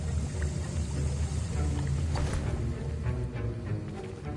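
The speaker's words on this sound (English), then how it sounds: "I see most of you have not forgotten how to stir." Potion stirred in a Harry Potter video game: a steady, soft swishing liquid churn with low watery sloshing, continuous and fairly quiet throughout.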